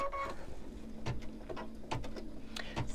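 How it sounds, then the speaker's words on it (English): A home embroidery machine stitches an outline square as a placement guide for fabric on a snowman mug rug appliqué, giving a steady mechanical whir with rhythmic needle clicks repeating close by, no voices. "it's going to go ahead and stitch out a square to show you where to put your fabric"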